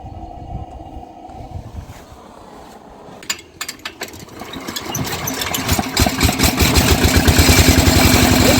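A garden machine's small engine cranks and starts in cold weather during orchard pruning, sputtering at first and then catching into a steady, loud, rising idle that fills the end.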